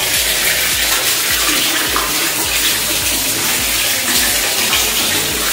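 Water gushing steadily from a pipe under a pressure booster pump at home, a loud continuous splashing flow, close by and alone.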